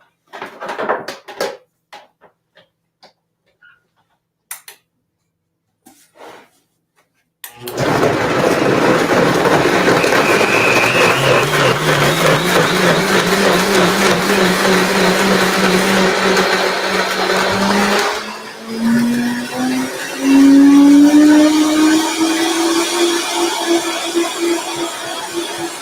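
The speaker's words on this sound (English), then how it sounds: "I love that blender because it has a cycle on it, different cycles" A countertop blender blitzes tahini dressing with dates, starting after a few plugging-in clicks and then roaring loudly and continuously, its motor pitch shifting and rising partway through as the cycle changes.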